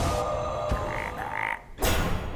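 A cartoonish frog croak from the Hearthstone card game rises in two short tonal bursts over a busy game soundscape, followed by a louder sweeping effect.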